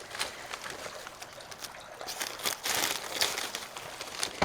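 Paper crinkles and rustles close by as a mail-order rose plant shipped from a nursery is unwrapped, quiet irregular crumpling bursts with no voice.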